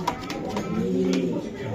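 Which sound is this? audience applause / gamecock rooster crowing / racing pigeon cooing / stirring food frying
racing pigeon cooing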